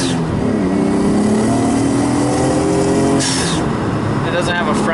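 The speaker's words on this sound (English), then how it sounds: "You can hear the studded snow tires." A Nissan 240SX with a 1JZ engine drives on studded snow tires, a steady loud road and engine roar with a gritty tire hum throughout and a brief rise near the end, and someone talks over it.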